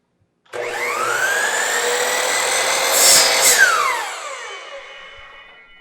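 A power tool cuts through a wooden dowel rod during cosplay prop work, a steady whining buzz held for about five seconds that swells briefly near the end, then winds down and fades out.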